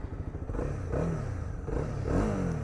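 Honda CB300R motorcycle engine firing up and revving, a low throaty rumble with rising throttle blips, close and loud with clattering mechanical noise.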